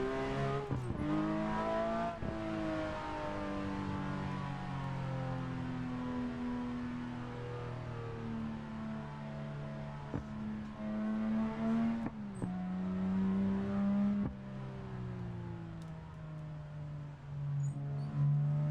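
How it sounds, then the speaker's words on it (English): A Porsche 911 GT3-chassis car with a naturally aspirated 4-litre engine revving hard, its rising and falling harmonic howl sweeping through repeated gear changes with sharp shifts, loud and close, no talk. "it's got the GT3 engine, naturally aspirated, 4 liters, 510 horsepower"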